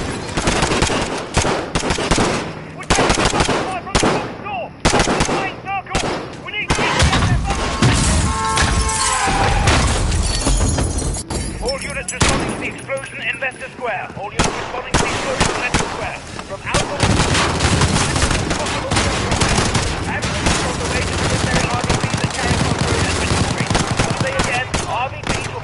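Loud, dense automatic gunfire and explosive bursts from a firefight in the video game Call of Duty: Modern Warfare, nearly continuous with brief lulls, with a player's shouting mixed in.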